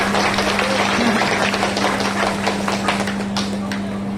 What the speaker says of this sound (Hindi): तालियों की गड़गड़ाहट सुनाई देनी चाहिए।